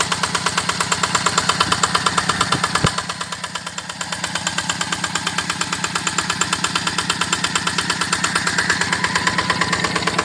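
Yanmar 8.5 HP diesel engine driving a 3-inch Ebara water pump, chugging in a steady loud rhythm close by, with a brief dip in revs partway through and no voices.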